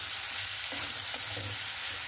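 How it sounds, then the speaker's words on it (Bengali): Thinly sliced brinjal fries in a pan with prawns, onion and spices, giving a continuous close sizzle with a few faint stirring scrapes and no talk. "এবার আমি কেটে রাখা বেগুন দিয়ে দেব"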